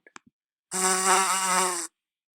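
A voice imitating a buzzing insect, a loud sustained nasal buzz lasting about a second after a few brief faint clicks, alone with no other sound.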